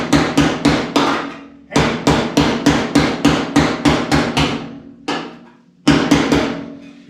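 Loud, ringing hammer blows strike a square-body truck's metal door in quick, steady runs, pausing briefly between bursts, close and metallic with lingering resonance.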